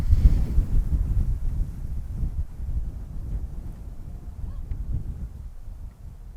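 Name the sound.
wind blowing on outdoor microphone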